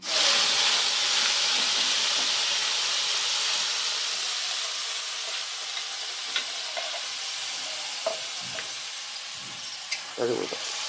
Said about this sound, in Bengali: এর মধ্যে মশলাটা দিয়ে দেবো।